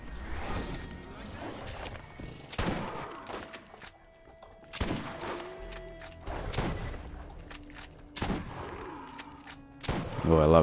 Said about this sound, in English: Oh, I love it when shotguns are accurate.